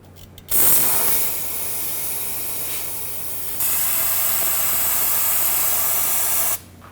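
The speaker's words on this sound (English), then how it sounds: "Let's clean it up with some brake parts cleaner" Brake parts cleaner sprays in a loud, steady hiss from an aerosol can onto the rear inner brake hose area of a 2011-2016 Ford F-350, a near continuous burst that briefly shifts in intensity before cutting off.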